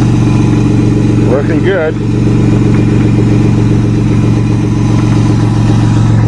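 A Toyota Camry engine revs hard and steadily at high speed as the gas pedal is held down, a loud continuous drone with a brief dip, while a voice speaks over it.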